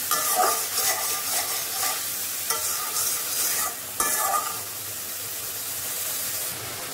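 Spices and masala sauté in a pan ahead of fish being added, loud steady sizzling and hissing with repeated scraping stirs, easing to a softer simmer toward the end.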